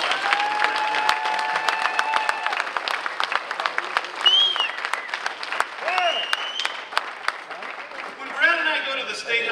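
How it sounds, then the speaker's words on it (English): A roomful of guests at a veterans' dinner social in North Reading, Massachusetts applauds Susan Magner, with steady sustained clapping and a few whoops and voices mixed in near the end. "Let's give her a round of applause."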